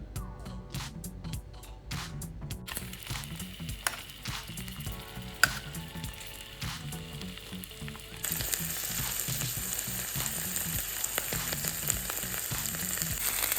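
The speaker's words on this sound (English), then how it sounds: "We do need to sear these off first, so into a pan over medium heat, I'm going to pop those in" Pork sausages sear in a pan over medium heat with a constant crackling sizzle. The hiss grows noticeably louder and denser partway through, and a few stirring knocks sound near the start.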